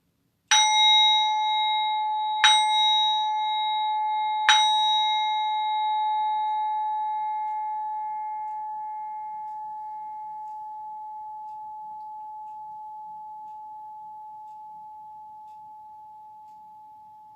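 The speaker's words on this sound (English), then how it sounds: "As you find that point where the sound of the singing bowl fades away" A singing bowl is struck three times in slow succession, each strike ringing out with a bright metallic tone before a long sustained hum fades gradually toward silence, alone and close.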